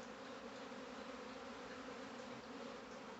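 A swarm of Apis honey bees arriving at a hive box at a house, producing a steady, dense droning hum of many wings that stays even and continuous throughout, fairly close with no talk.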